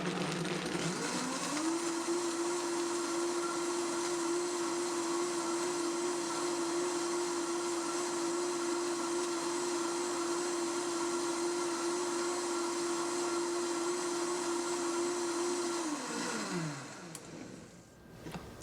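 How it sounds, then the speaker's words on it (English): A Vitamix blender grinds dip ingredients in one long, loud, steady whine that ramps up quickly, holds at a constant pitch for about fifteen seconds, then winds down as it is switched off. "Now at this point, I'm going to grind this up and I'll show you. Get ready for some noise."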